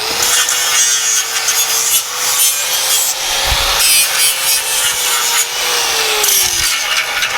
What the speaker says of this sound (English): So now I'll just sand the ends a little bit.